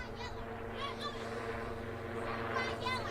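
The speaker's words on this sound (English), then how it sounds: "It's actually a chopper, might be Twiggy, just coming home." A helicopter passes over a reserve grade rugby ground, its rotor and engine drone running steadily beneath a commentator's voice as it heads home.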